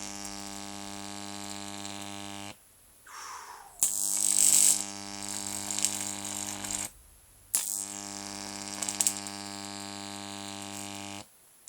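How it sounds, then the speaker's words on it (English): An electrical arc from a high voltage transformer gives a steady mains hum broken by harsh, crackling buzz bursts that cut in and out twice. The sound is close and moderately loud, with no talking. "That is one hot arc."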